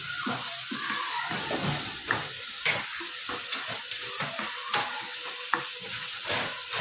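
A spatula stirs spices and vegetables through a frying pan with a constant sizzle, punctuated by irregular scraping strokes and light clacks against the pan.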